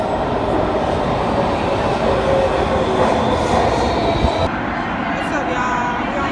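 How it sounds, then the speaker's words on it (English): Steady rumbling interior noise of a moving passenger train on a metro rail line in Atlanta, with continuous wheel and car rumble throughout and the sound shifting quieter near the end. "We're on the train."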